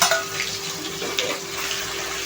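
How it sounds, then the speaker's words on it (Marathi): Mawa (khoya) frying in a pan for bottle gourd halwa gives a steady, close hiss and sizzle with light stirring scrapes and a faint constant tone underneath. "आता आपण ह्याच्यामध्ये मावा टाकणार आहोत आणि फ्राय करून घेणार आहोत।"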